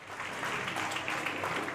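An arena crowd at a roller hockey cup match applauds during a goalkeeper substitution, a steady wash of clapping lasting under two seconds.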